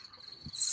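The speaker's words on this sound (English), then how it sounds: "Who's playing crickets in my ear?" A cricket sound effect played during a game show: a steady high-pitched chirping trill that swells brighter near the end, with a soft low thump partway through and no talking.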